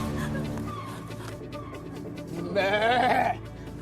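Possessed goat-spirit bleating from a person, a wavering cry rising over dramatic background music and voices, one loud quavering burst near the end.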